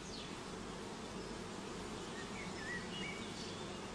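A honeybee colony strong enough to give a shook swarm hums steadily at low volume, a dense continuous buzz with faint bird chirps above it and no voices.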